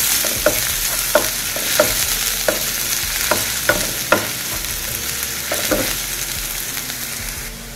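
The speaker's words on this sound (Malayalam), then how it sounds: "എണ്ണ ഒഴിച്ച് ചൂടാകുമ്പോൾ നമുക്കതിലേക്ക് ജിഞ്ചർ ഗാർലിക് പേസ്റ്റ് ഇട്ട് കൊടുക്കാം. ഇതൊന്ന് വഴറ്റിയെടുക്കാം." Ginger garlic paste sizzles in hot oil in a pan as it is sautéed, a constant frying hiss broken by sharp scrapes and clinks of a stirring spoon every second or so.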